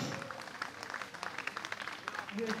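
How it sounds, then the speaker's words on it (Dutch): Spectators at a Dutch mayors' cycling championship in Asten give a scattered round of clapping outdoors, irregular claps mixed with crowd murmur and a voice near the end. "Kom maar met die applaus."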